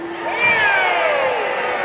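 A concert crowd screams and cheers together in a loud sustained roar of high voices, rising briefly then holding steady through the short moment, with no separate talk.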